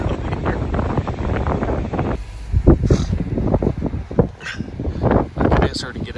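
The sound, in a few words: strong wind at a mountain top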